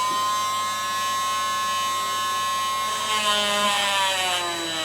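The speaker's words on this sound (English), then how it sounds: "I can get my drill in and keep it still." A small electric drill whines steadily at a high pitch, its tone dropping and roughening as it bites into wood for a miniature 1:12 scale log cabin near the end.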